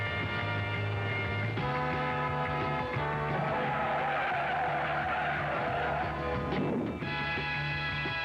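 A race car skids at the 1972 Indianapolis 500, tires squealing in a long screeching slide over a droning engine, loud and sustained with shifting pitch as the car travels hundreds of feet.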